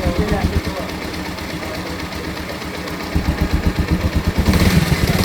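A motorcycle engine fitted with a test CDI unit runs at idle with a fast, rhythmic put-put and a rattling clatter. It is close and fairly loud, and the pulses grow stronger toward the end.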